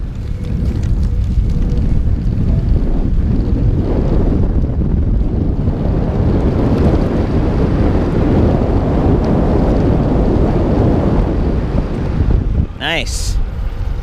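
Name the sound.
electric bike riding in turbo mode, wind noise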